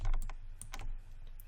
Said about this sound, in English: We're going to Q on our keyboard,